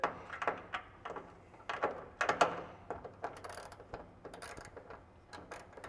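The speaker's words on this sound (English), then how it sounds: "So let's go ahead and remove these 2 bottom bolts here real quick using our 10mm." Close, quiet clicks and short ratcheting bursts come from a 10mm ratchet backing out bolts on a Toyota MR2 during an engine prop kit install, irregular and spaced with brief pauses, no voices.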